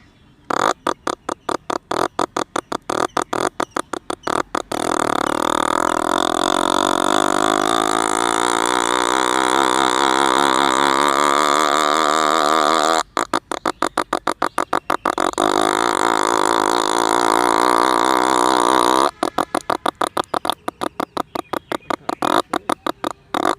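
A man imitates the engine of a tempo three-wheeler with his voice, a rapid sputtering putter that swells into a long, continuous droning rev, then drops back to choppy sputtering, loud and close.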